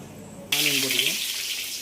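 Chopped onions dropped into hot oil with mustard seeds for a kavalai fish curry, bursting into a sudden loud, steady sizzle that carries on evenly, with a voice speaking briefly over its start.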